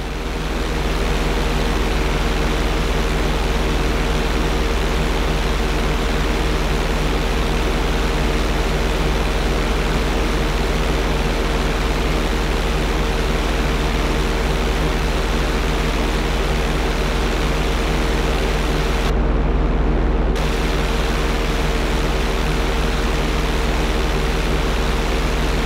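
A fixed-wing airplane in the video game GTA V drones with a steady, loud engine roar and low hum that holds constant throughout, with a brief shift in tone near the end.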